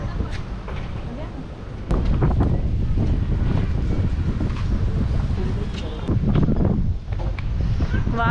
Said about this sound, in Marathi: वारं खूप आहे, डोळ्यातूनच पाणी उरेल वाऱ्याने.